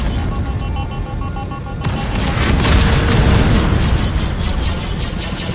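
A seismic charge detonating in LEGO Star Wars: The Skywalker Saga, a loud sustained booming blast with a rumbling burst that rolls on for several seconds over the game's music.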